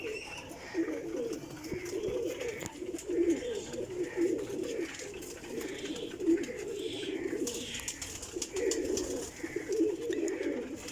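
A breeding pair of black pigeons coo in repeated soft, low, throaty phrases, fairly close and steady throughout, with faint background noise and no speech.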